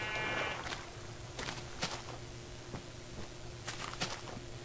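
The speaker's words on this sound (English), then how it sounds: "Hello, sheep." Blocky sheep bleating in the video game Minecraft, a few short bleats scattered over a steady low background hum, moderately near and fairly quiet, with no talk.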